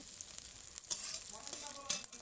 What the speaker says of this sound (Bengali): তেল দেওয়ার পরে লঙ্কা পেঁয়াজ যা আছে সব দিয়ে দিব। লঙ্কা পেঁয়াজটা ভাজা ভাজা হয়ে গেলে